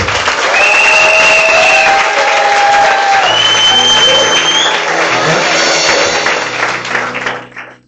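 A church congregation at a Sunday service breaks into loud, sustained applause mixed with cheering and high, shouted voices, which tails off at the end.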